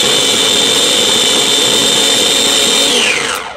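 A small, inexpensive food processor pulses ginger and garlic into paste: one loud, steady motor whir with a high whine runs for about three seconds, then spins down and stops.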